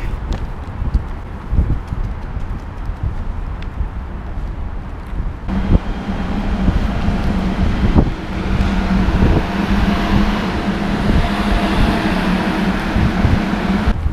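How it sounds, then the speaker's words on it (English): Wind gusts at an outdoor metro station, buffeting the microphone in rough rumbling bursts, joined midway by a steady low mechanical hum. "Oh, it's so windy."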